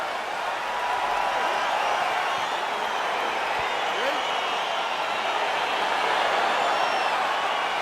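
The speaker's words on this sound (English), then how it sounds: "crowd getting excited as this fight gets underway" An arena crowd in the UFC 4 fighting game, heard as a steady, dense roar of cheering and murmuring that holds at one level from start to finish, with no voices on top.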